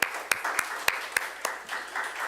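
A church youth-service congregation applauds, a steady wash of clapping punctuated by several sharp, evenly spaced loud claps.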